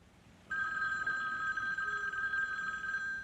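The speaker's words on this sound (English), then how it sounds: "which is interrupted by Myrtle calling on the phone at 4:30 in the morning" A telephone in a film scene starts ringing after a brief quiet moment, a steady electronic trill that carries on alone at moderate volume.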